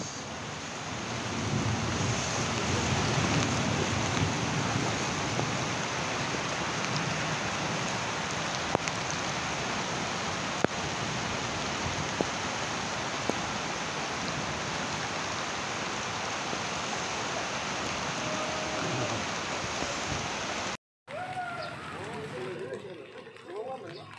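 Heavy rain pours steadily during flooding in Jayapura, Papua, a dense, continuous roar close by that runs almost unbroken before cutting off briefly near the end, followed by quieter rustling noise.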